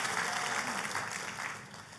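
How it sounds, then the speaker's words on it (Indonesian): A church congregation breaks into lively applause, a dense, fairly close wash of many hands clapping that eases slightly over two seconds. "tepuk tangan yang paling meriah"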